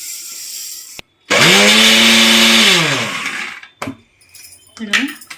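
A kitchen mixer grinder grinds flax seeds in one short, loud burst, the motor whining up to speed and then winding down, followed by faint handling noises.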